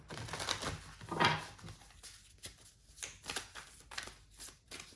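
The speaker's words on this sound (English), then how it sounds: "This deck is enormous. It's so hard to shuffle." An enormous, hard-to-shuffle deck of cards being shuffled close up, a few riffling bursts followed by softer scattered rustling and tapping, with no talk.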